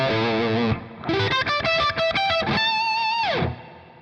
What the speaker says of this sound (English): So that's the distortion of that amp.